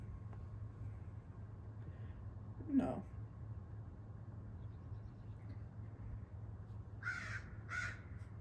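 A crow caws twice in quick succession, fairly faint and distant, over a steady low hum, with a brief thump or knock earlier in the quiet stretch.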